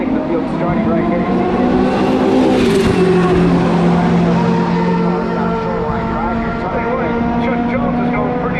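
Historic IndyCar race cars, among them a Parnelli VPJ, roar past on the Long Beach street circuit, with several engines overlapping in a loud, sustained drone and one car's pitch swooping down as it goes by, while crowd and commentary noise sits underneath.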